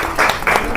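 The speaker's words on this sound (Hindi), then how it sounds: "तालियों से स्वागत करेंगे अभी लोग।" Audience applause welcomes prize winners at a college program, a short burst of dense clapping that swells twice within under a second.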